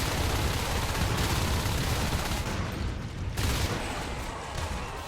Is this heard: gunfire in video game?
yes